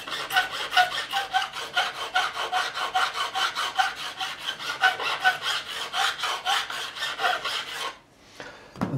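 A clean file rasps over a guitar fret to remove burrs and shape it, in a fast, even run of about thirty short back-and-forth strokes, close and crisp, before stopping.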